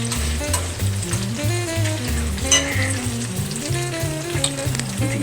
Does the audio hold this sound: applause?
no